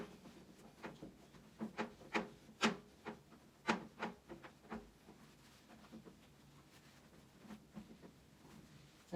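ENJO cloth wiping and drying a bathroom surface, with a series of soft, rhythmic rubbing and squeaking strokes up close that fade toward the end.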